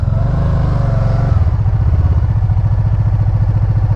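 A 2012 RTS motorcycle engine idling roughly on two cylinders in limp mode after a VCM replacement, loud and close, shifting to a lower, uneven chugging beat partway through, no talk.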